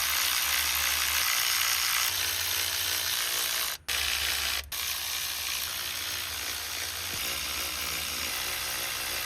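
A power tool whirs steadily as it backs out 8 mm intake manifold bolts on a 1999–2007 GMT800 truck, the buzzing drive cutting off twice for an instant before running on.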